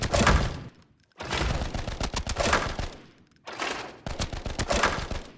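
Gunfire from an M61 rifle in a video game, heard as three separate bursts of rapid shots with short gaps of quiet between them, loud and close.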